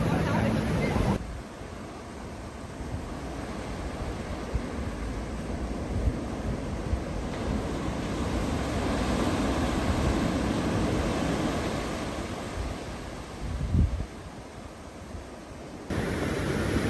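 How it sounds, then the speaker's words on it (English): Ocean tide rolling in on a shore: a steady, loud wash of surf noise with wind buffeting the microphone, while someone talks throughout. "So, tide's really coming in right now, trying to stay away from this."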